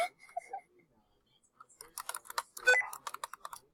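Sticky computer keyboard keys clatter in a quick, uneven burst of clicks, preceded by a brief soft voice.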